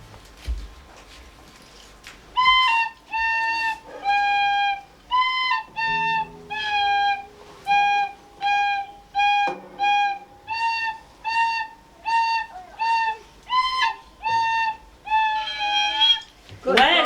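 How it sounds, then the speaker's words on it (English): A tin whistle plays Hot Cross Buns at a home music session, with clear, bright repeated phrases of three notes in a steady rhythm, played alone and close. "And now we have Colm going to play us on his tin whistle, Hot Cross Buns."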